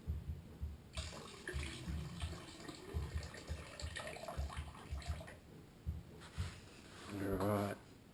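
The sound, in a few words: excess water being poured off gold paydirt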